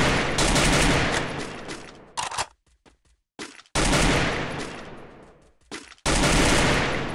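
Loud bursts of rapid automatic gunfire in the video game Free Fire come in three long volleys, separated by short gaps with a few scattered single shots.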